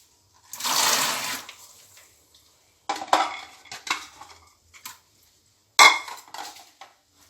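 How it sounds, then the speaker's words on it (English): Raw groundnuts poured into a bowl of hot salted water make a hissing rush of rattling nuts, then several shorter clattering pours separated by silence, close and loud with no talk. "So I'm going to be turning in our groundnuts."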